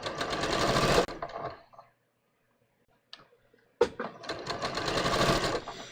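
A domestic sewing machine stitching a small fabric sample in two loud, steady bursts of rapid mechanical whirring, with a quiet pause between them broken only by a few faint clicks.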